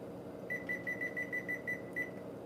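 A kitchen oven timer being set while baking macarons gives a steady string of about ten short, bright beeps close by, evenly spaced with a slightly longer final one, over a low hum.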